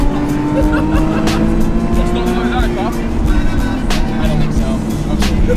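A Nissan 370Z is driven through canyon roads, its engine a steady loud hum from inside the car with a rising and falling pitch as it accelerates, while people talk over it.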